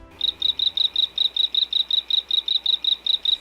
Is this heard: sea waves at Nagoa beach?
no